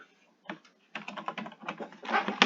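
Rapid keystrokes clatter on a computer keyboard, starting with a few isolated taps and building into dense, close bursts of typing.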